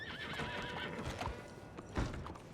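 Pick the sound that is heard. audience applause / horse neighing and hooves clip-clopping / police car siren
horse neighing and hooves clip-clopping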